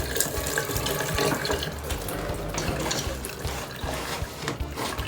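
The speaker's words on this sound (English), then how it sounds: "When you are adding your water, you have to be adding gently" Water poured gently from a cup into bun dough being mixed by hand, a steady trickling and splashing that runs close and continuous.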